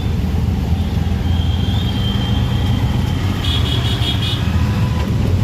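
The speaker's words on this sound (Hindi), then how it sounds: "देखिए एक गाड़ी मेरे बगल से निकल रही है पीली प्लेट" A car with a yellow taxi plate passes close by in traffic, a loud steady road rumble with a brief higher tone and short horn-like toots midway.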